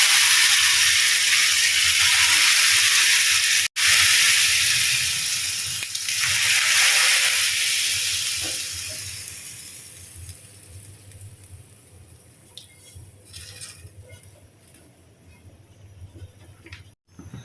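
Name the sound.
pouring soaked lentils (dal) into a pot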